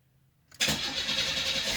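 A 1987-90 Chevrolet Celebrity engine starts after a brief, quiet crank, then settles into a steady, close idle.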